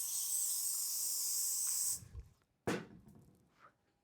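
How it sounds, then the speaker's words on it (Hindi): Hold hairspray hisses in one long continuous burst over a hair puff for about two seconds, close and loud, then stops, leaving faint handling sounds and a brief scrape. "सॉफ्ट कॉम करने के बाद होल्ड स्प्रे करेंगे पूरे पफ पे।"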